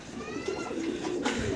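A male racer pigeon coos softly in a short, continuous low murmur close by, with faint background noise and no talking.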